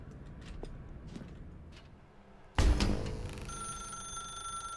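Telephone ringing in The Stanley Parable video game, a sudden loud bright ring bursting in after a quiet stretch of faint clicks, then a sustained electronic tone that continues steadily to the end.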